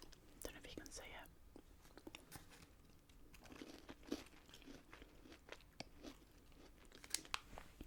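Chocolate from the USA being chewed close to the mic, with soft crunching and biting sounds and crinkling wrapper noises under quiet whispered talk.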